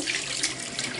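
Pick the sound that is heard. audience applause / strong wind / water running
water running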